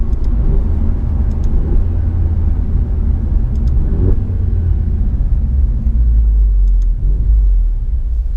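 The 2017 Alfa Romeo Giulia Quadrifoglio pulls hard in low gears, its engine a loud, deep, continuous rumble heard from inside the car, swelling slightly partway through with no speech over it.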